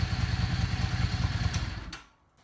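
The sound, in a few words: Yamaha Star 650 motorcycle engine running after carburetor rebuild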